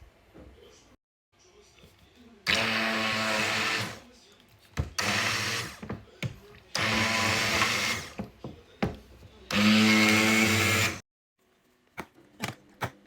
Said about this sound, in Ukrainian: Зараз я її блендерну з водичкою